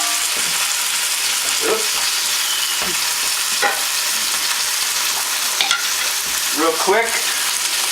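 Sausage meat sizzles loudly in a hot pan, browning for a pasta bolognese, with a constant frying hiss and occasional scrapes. A person speaks briefly over it.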